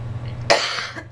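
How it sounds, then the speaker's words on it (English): A single sharp, close cough bursts out after a brief moment of low hum, followed by a softer trailing rasp. "It's just a lot of coughing."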